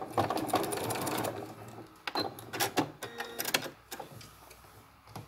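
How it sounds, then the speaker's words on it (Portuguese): A sewing machine stitching a short diagonal seam on fabric binding, a quick steady run of needle clatter first, then several brief bursts with pauses and small handling sounds, close and fairly quiet. "eu viro o trabalho dessa forma e faço a costurinha diagonal pra fora"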